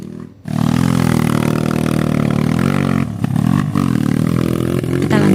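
Trail motorcycle laboring up a hill on a muddy trail at Bukit Paniisan, Sentul, its engine revving hard and close with a steady strained drone and brief dips, plus scraping clatter.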